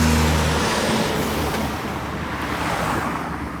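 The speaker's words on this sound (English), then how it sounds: "you can feel all the country breeze blowing on me right now" A country breeze outdoors near a parish church in Barbados sounds as a steady, loud rush of wind buffeting the microphone. A low rumble like distant traffic or surf sits beneath it, and no one speaks.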